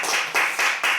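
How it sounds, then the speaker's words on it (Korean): An audience at a medical student workshop presentation claps in a few quick, bright bursts. The bursts are close together, loud and fairly sharp, and there is no talking. "박수 부탁합니다"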